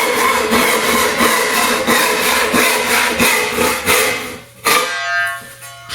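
A Japanese two-handed Kobiki Deluxe 450 saw cutting 20 mm larch with quick, regular strokes, steady rasping back and forth, then the cutting stops near the end.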